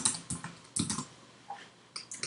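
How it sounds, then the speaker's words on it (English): Typing on a computer keyboard in short bursts of key clicks separated by brief pauses, close and clear with no talking. "I'll double click again and I'll just type birthday."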